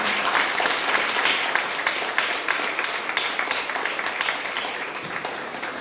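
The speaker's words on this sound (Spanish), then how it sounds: "Dale un aplauso a la palabra del Señor." A church congregation applauds during a sermon, a loud, sustained wash of clapping that runs steadily for several seconds with no voice over it.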